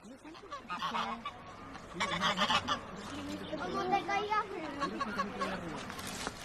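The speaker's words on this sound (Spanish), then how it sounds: "La banda sonora omnipresente es el canto de los pájaros" Geese honk and call repeatedly beside the river in Mérida, Spain, near and fairly loud in irregular bursts, with voices talking throughout.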